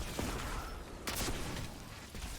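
Rocket impacts in Destiny's Grand Master Nightfall The Disgraced, a run of dense, gritty blasts with one sharper burst near the middle, loud and continuous against constant game noise.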